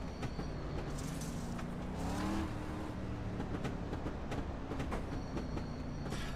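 Race cars from a dirt oval racing video game rumble steadily on a warm-up lap, a continuous loud roar of engines with passing whines and no speech over it.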